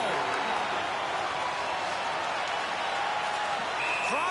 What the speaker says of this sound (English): This crowd is on fire right now.